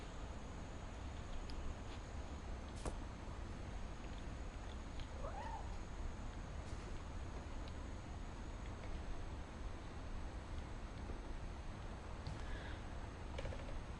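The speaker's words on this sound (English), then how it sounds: "I heard a cat." A cat meows once in What Remains of Edith Finch, a brief, fairly faint call rising out of a steady hiss of game ambience, with no voices.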